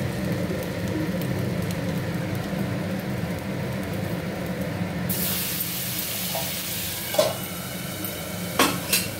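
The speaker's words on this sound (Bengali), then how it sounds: "তো এবার আমি যে ব্যাটারটা বানিয়েছি ব্যাটারটা এটার মধ্যে ঢেলে দিলাম।" Batter is poured onto a hot iron tawa greased with mustard oil, setting off a sudden, steady hiss partway through, with a few sharp utensil clinks near the end.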